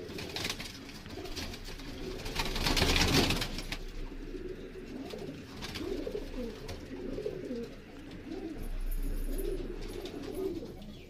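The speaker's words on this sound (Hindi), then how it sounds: "भैया के हाथ में भी कमांगर कबूतर है जी" Kamangar pigeons at a breeding setup give soft, repeated throaty coos close by, layered over one another with a brief rustling burst near the start, and no voices.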